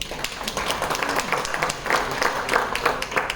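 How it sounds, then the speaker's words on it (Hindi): An audience at an Ayurvedic medical talk on NAFLD in Meerut applauds, a dense, steady patter of many hands clapping at moderate loudness that fills the short stretch. "तालियां तो बनती हैं।"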